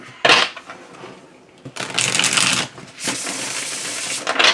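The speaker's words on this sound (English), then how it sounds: "when I start having a bunch of clumsy shuffles in a row" Tarot cards being shuffled by hand, a few separate bursts of papery riffling and clatter, close and fairly loud, the last two long and continuous, with quiet pauses between and no voices.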